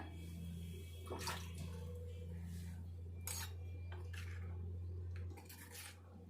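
Batter for old-style pothapaalu being mixed by hand in a vessel, faint soft clinks and wet scraping over a steady low background hum, quiet throughout.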